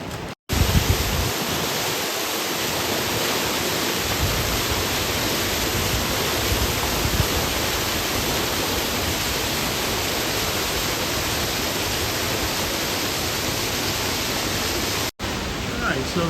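Waterfall on Sulphur Creek during a hike, a loud constant broadband roar of falling water, close and unbroken throughout.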